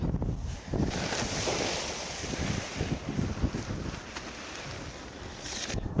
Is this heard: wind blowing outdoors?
yes